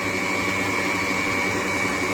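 An Ariceck N4 soy milk maker runs while blending an almond and peanut milk, giving a steady, loud, even whirring motor drone that holds unchanged and alone throughout.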